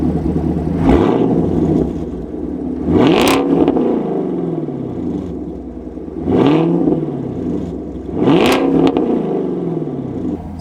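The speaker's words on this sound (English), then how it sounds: "we should just rev it up a little bit for you" Chevrolet Camaro SS with an automatic transmission and MBRP axle-back exhaust, revved in park up to about 3,000 RPM: three loud, rising engine revs spaced a few seconds apart, each falling back to a deep, burbling idle.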